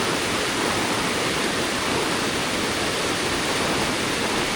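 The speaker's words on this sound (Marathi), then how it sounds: "पाण्याचा प्रवाह आता बऱ्यापैकी वाढला आहे." A river swollen by heavy evening monsoon rain in the Konkan rushes past in a constant, dense roar, loud and unbroken from start to finish.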